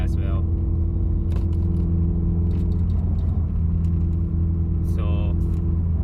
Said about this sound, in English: I want to see if you guys can hear the blow of the bypass valve.